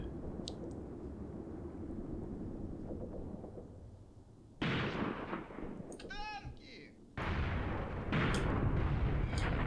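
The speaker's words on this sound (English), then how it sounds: "It's taking a lot of machine gun fire." Machine gun fire in the war game Graviteam Tactics, sounding as a steady, fairly faint background of distant shooting with louder bursts breaking in later, with no talk over it.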